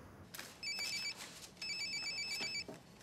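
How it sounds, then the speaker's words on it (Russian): An electronic telephone ringtone rings in two bursts with a short gap between them, heard clearly and alone without talk in a quiet indoor office setting. "телефон."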